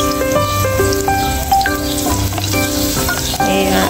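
Garlic and onion sauté in a pan during backyard cooking, giving a steady, close sizzle and fry with occasional stirring, while a sustained tonal melody plays underneath.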